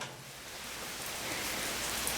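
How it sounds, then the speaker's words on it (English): Rain falls steadily outdoors as a dense, even hiss that grows slightly louder, with no voices over it. "don't know if you can hear the rain"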